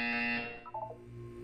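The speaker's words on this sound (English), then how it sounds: "You will hear a buzzer. When you hear the buzzer, look up at the ceiling." A buzzer in the Portal 2 video game, one short harsh electronic buzz that quickly fades into quieter tones and hum.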